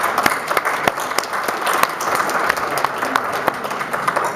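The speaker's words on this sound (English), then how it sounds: "give me a big round of applause for Alfonso as we bring him up to the podium" Audience at CPAC applauding as a speaker is brought up to the podium, a steady spread of many hands clapping with sharper individual claps standing out, a few voices mixed in beneath.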